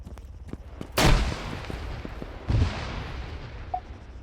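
Two sharp, heavy blasts of a grenade explosion in the military shooter game Arma 3, about a second and a half apart, each with a short rumbling decay over low background ambience and a faint click near the end.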